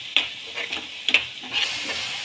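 Spinach egg curry is stirred in a sizzling pan, with several scraping strokes standing out over a continuous soft frying hiss.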